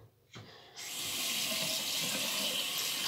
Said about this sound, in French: on rince un coup le savon à l'eau froide